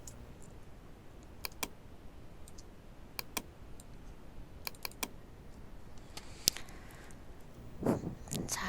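Keys on a computer keyboard are pressed while working in Photoshop CC: sparse, crisp clicks come singly and in quick pairs, close and distinct over a quiet room, with a brief rustle near the end.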